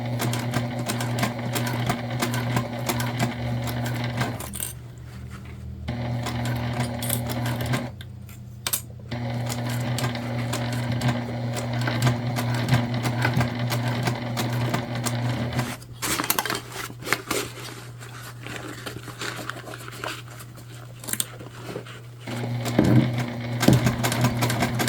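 A sewing machine stitches a book bag tote, its steady mechanical hum and rapid needle chatter running in long bursts with brief pauses, close and alone without talk.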